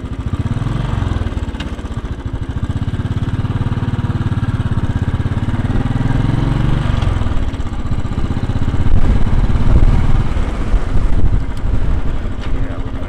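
A 2010 Royal Enfield Bullet motorcycle engine runs steadily and loudly throughout a ride from Red Hook, Brooklyn toward Lower Manhattan, with a constant low thumping drone that swells slightly near the end.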